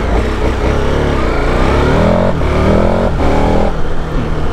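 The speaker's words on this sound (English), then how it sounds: "Let's get fired up. I like the way it like fires into life." A 2021 KTM Super Adventure S motorcycle engine, already warm, fires into life and revs loudly up close, with a strong steady roar and rising pitch sweeps between short blips of throttle.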